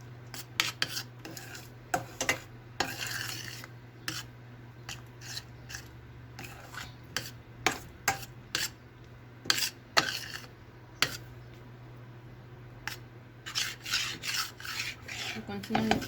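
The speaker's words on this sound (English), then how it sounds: "You continually keep stirring. You don't want your milk to stick to the pan." Spoon scraping and rubbing against a pan while milk is stirred over very low heat, soft irregular scrapes and taps repeating close by over a faint steady hum.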